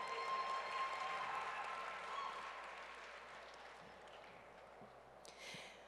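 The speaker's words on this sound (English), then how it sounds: "Please give a round of applause for my dear sister, Lobna Mulla" An audience at a Muslim community talk applauds a guest speaker, a faint, distant, even wash of clapping that slowly tapers off.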